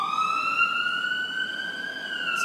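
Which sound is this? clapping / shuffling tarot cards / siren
siren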